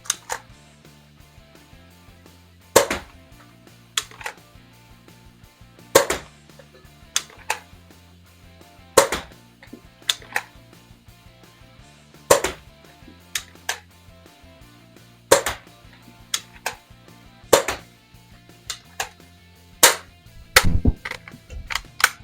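A Dart Zone Max Outlaw toy blaster fires darts in a series of about a dozen sharp snapping shots, spaced irregularly and coming a bit faster toward the end, over a faint low hum.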